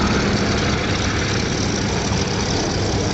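Westland Lynx Mark 8 helicopters at an air show, a loud continuous roar of main and tail rotor noise mixed with the high whine of twin 900 horsepower Rolls-Royce gas turbines, steady and close with no voices.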